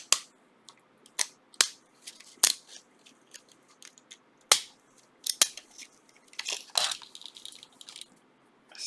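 Pinking shears snip through paper for a handmade gift box, sharp crisp cuts coming irregularly, some single and some in quick clusters, close by with quiet pauses between.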